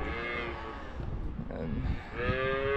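Calves on a farm bawling and mooing in several drawn-out, harmonic calls, loud and close, with a shuffling pause between the first and last moos.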